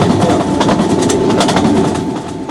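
In a train simulator video game, a train runs steadily on rails with a continuous rumbling roll and faint rhythmic clatter, loud and unbroken, with no voices.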